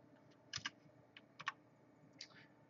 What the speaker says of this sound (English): Yeah, you can start typing it.